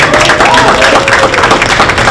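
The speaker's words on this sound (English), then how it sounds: "Round of applause." A crowd at an MLK Day community event gives a loud, dense round of applause that continues steadily throughout, with a faint murmur of voices underneath.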